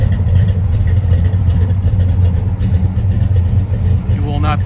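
A 1972 Chevrolet Nova's engine idles outdoors on a cold day, a deep steady rumble close to the exhaust, and a voice speaks over it.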